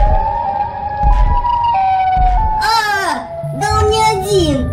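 A wailing Siren Head siren rises and falls with sweeping, warbling tones, loud and fairly near, while someone talks over it.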